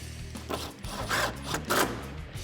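Ratchet tightening the headlight mounting bolts on a 2018-2021 Ford Mustang, a few short bursts of close mechanical clicking with no talk.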